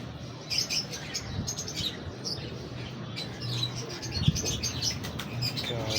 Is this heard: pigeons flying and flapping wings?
yes